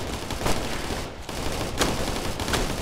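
A rifle squad fires in Operation Flashpoint: Red River, a loud dense fusillade of overlapping shots with several sharper cracks standing out over constant battle noise.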